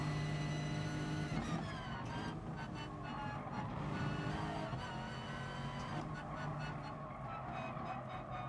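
Race car engine in the GT Sport video game during FIA practice, racing a BMW, roars steadily and loud, with gear changes and rising, falling revs throughout.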